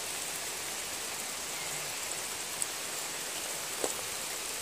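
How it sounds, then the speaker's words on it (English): Steady rain falls along the Appalachian Trail, a soft even hiss with a couple of faint drop ticks, no voices. "Happiness is going to town on a rainy day, and the wind is just starting to pick up."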